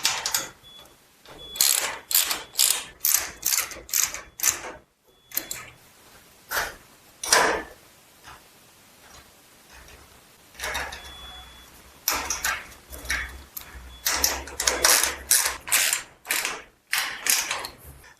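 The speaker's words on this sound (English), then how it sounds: "Then take the 5mm here, and you're going to tighten down all 4 corners." A hex key tightens 5mm bolts on a metal overhead garage storage rack. The clicks and scraping metallic ratcheting come in repeated quick bursts, close and fairly loud, with short pauses between rounds.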